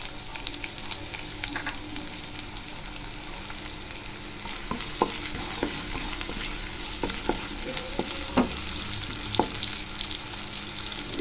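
Onions and curry leaves with fennel seeds sizzle steadily in hot sunflower oil while a spoon stirs them, with scraping stir clicks scattered through the frying hiss.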